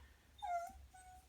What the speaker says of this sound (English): That's my dog you can hear in the background.